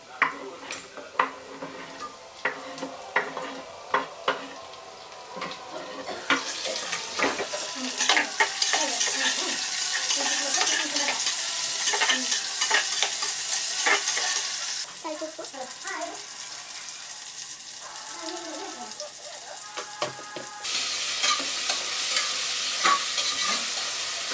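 Browned onion with three vegetables frying and being stirred in a pan, a steady broadband sizzle with scraping utensil strokes, growing louder once the vegetables go in and continuing throughout.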